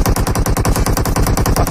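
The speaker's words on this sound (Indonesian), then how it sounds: "bakal dengar beberapa tembakan" Rapid, loud, rhythmic bursts of automatic gunfire in the battle-royale video game PUBG Mobile during a competitive esports match, the shots evenly spaced and close, with no pauses.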